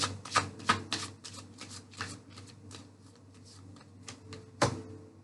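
Tarot cards shuffled and drawn from a deck in a series of crisp, close riffling and flicking bursts, with a sharper slap near the end; no voices.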